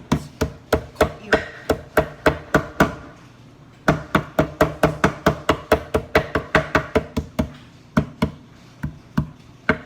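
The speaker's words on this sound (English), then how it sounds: "we're gonna use this part of the knife to smash it" Steady, sharp knocks as the flat of a knife smashes an ingredient on a board while making chicken soup: a run of about a dozen evenly spaced hits, a brief pause, then another run, close and crisp.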